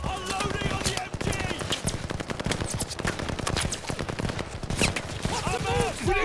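Machine gun fire in a Call of Duty: Vanguard battle, with dense rapid bursts of loud automatic shots rattling almost continuously while soldiers shout over the gunfire.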